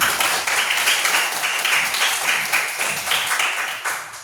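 A room of schoolchildren claps together in a rhythmic, fairly even burst of applause at a Hindu religious lesson, close and lively, fading slightly toward the end.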